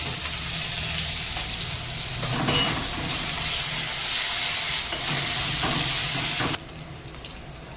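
Onions fry in hot oil with cumin seeds and dried chili, a loud, dense sizzle with clattering stirs in the middle, then dropping abruptly to a quieter simmer near the end.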